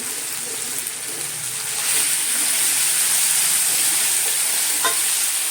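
Vegetables frying steadily in a pan for a savoury Karnataka breakfast dish, a continuous close hiss of sizzling oil that swells slightly partway through, with faint stirring scrapes and no voices.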